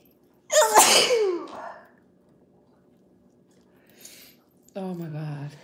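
A person gives one loud, close sneeze near the start. A few seconds of quiet follow, then a short vocal sound.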